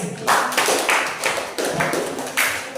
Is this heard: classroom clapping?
yes